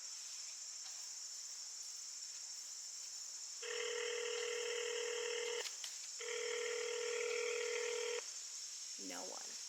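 Two long telephone keypad tones sound in turn while dialing an automated phone menu, each lasting about two seconds, over a steady high insect-like drone, with a brief rustle at the end.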